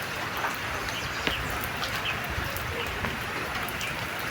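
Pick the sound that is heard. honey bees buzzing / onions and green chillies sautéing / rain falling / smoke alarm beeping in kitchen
rain falling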